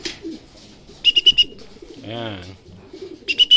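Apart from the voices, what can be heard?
pigeon cooing after arriving at loft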